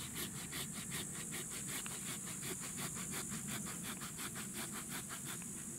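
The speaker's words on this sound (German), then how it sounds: "Und das mache ich jetzt mit dieser Säge." A cheap handsaw cuts steadily through fresh wood in quick, even back-and-forth strokes, close up, with a rasping rhythm throughout and no talking.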